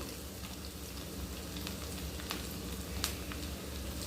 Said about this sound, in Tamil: கடுகு நல்லா பொரிஞ்சதும்